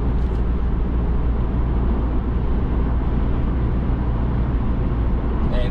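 Steady, loud cabin drone inside a 2024 Chevy Colorado TurboMax pickup cruising at about 65 mph, blending low engine hum with road and tire roar, unbroken from start to finish.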